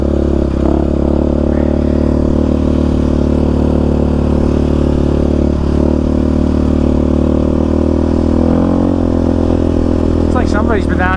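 Yamaha Raptor 700 ATV riding a washed-out rocky desert trail in Arizona, its engine droning steadily and loud throughout with clatter and scraping from the terrain, a brief rev rising near the end.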